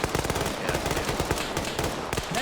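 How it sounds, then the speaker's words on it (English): Sustained automatic machine gun fire in an Arma 3 firefight, rapid dense bursts of shots continuing without pause, loud and close with overlapping distant gunfire. "they're getting pinned by that machine gun"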